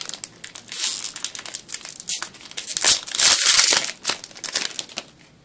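Pokemon Shiny Collection booster pack wrappers are torn open by hand, giving close, loud foil crinkling and ripping in repeated bursts that swell in the middle.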